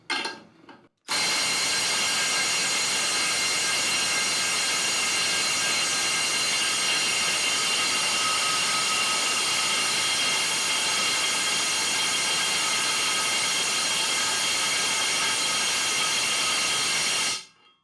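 A Hercules 12 volt cordless impact driver hammers continuously at a very tight bolt, a loud, dense rattling whir held for about sixteen seconds without letup, close by and with no talking.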